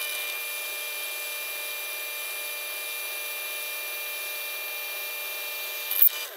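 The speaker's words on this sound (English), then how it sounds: "we're just going to go ahead and put a hole down through here" A drill press whines steadily as a Forstner bit bores a hole into wood, a constant high mechanical hum ending with a brief louder scrape.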